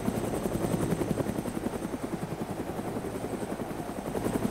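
Rapid rhythmic thumping of helicopter rotor blades with a steady engine whine, continuous and fairly close, no voices, from a helicopter in the video game DayZ.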